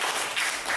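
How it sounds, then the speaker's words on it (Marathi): A classroom audience of students claps together at a Teacher's Day celebration in school, a short, steady burst of applause filling the room without any talk over it. "सगळ्यांनी टाळ्या."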